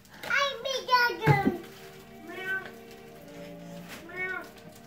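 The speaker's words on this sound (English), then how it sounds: "Watching the cats, I think, on TV." Cats on a television meow in several short, clear calls spaced a second or two apart, heard in a room at moderate volume.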